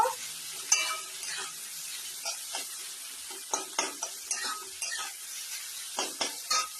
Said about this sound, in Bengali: এবার এটাকে লাল লাল করে আমি একটু ভেজে নেব।